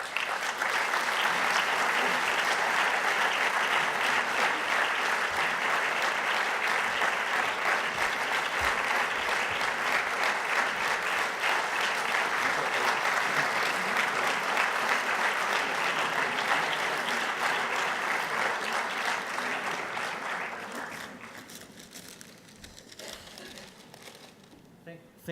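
Sustained, dense applause from a conference audience at a closing ceremony, loud and steady for about twenty seconds before tapering off, with some voices mixed in.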